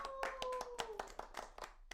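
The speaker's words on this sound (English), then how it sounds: "Round of applause" Podcast hosts clap for a jewelry store owner guest in a small studio, a handful of sharp, close, irregular claps from just a few people, with brief voices mixed in.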